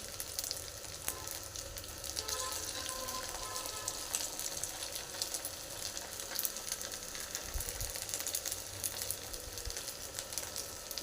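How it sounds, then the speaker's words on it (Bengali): Sago pakoras deep-fry in hot oil over a gas flame, giving a steady, dense sizzle and crackle that runs unbroken and close throughout, with no talking. "সুন্দর করে লাল করে ভেজে নিতে হবে"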